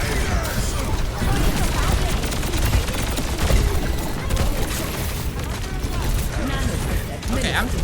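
Sombra's rapid gunfire in the Overwatch 2 video game crackles densely and loudly throughout amid other combat effects, with a player's voice talking over the action.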